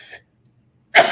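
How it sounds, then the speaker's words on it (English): A single sharp, loud sneeze bursts out at the end after a brief quiet pause, with a short breathy sound before it, indoors during an interview. "Sorry, I'm going to sneeze."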